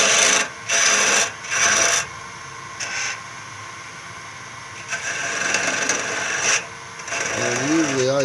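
Wood being turned down and rounded on a lathe: a gritty rasping cut comes in loud bursts, then a longer steadier grind, close up, with no talk over it.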